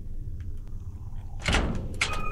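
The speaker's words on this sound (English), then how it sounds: "An unlocking noise somewhere." A door unlocks in the horror video game Lamia Nox, with a sharp metallic clunk followed moments later by a second click and a short ringing tail, over a low ambient hum.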